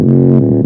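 A stock bass patch triggered on an EMU E6400 sampler: one short, loud, deep synthetic bass note with a steady harmonic tone, heard alone.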